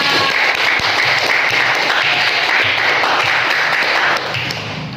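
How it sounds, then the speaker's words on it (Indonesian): A classroom group claps together during a Pancasila civics lesson, brisk and fairly loud, many hands in a continuous patter that drops off a little near the end. "Oke, kasih tepuk tangan buat kita."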